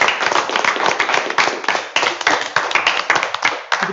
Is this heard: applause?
yes